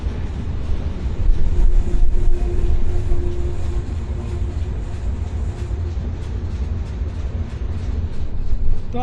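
Train at Bhanga railway station, a steady low rumble and rolling clatter, fairly loud and continuous, with a faint tonal hum from the machinery.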